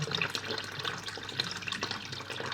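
Water begins trickling and splashing through a homemade hang-on-back aquarium filter, a soft, steady close-up flow with small drips, fairly quiet and without voices.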